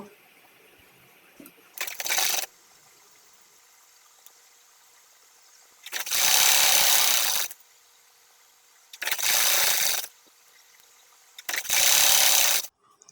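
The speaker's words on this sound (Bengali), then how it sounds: "এই সাইড থেকে আমি ঘুরিয়ে ঘুরিয়ে সেলাই করে নিব" A sewing machine runs in four separate bursts while stitching a sleeve onto a small child's kameez cut from gauze fabric, each a loud steady whir lasting about a second, with near-silent pauses between them.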